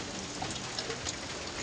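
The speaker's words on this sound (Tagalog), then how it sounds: "medyo malakas-lakas na yung ulan" Steady, dense downpour of heavy rain hissing on surfaces, constant and enveloping, with a few distinct drops pattering through it and no voices.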